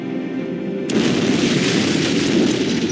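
Explosion of an antimatter charge aboard a ship in the Halo: Combat Evolved game: a loud, sudden boom about a second in, followed by sustained broadband roar and rumble filling the remainder, with no speech.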